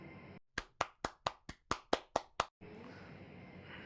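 Nine sharp hand claps in a steady, evenly spaced run, loud and close, with a brief hush before and noisy background after.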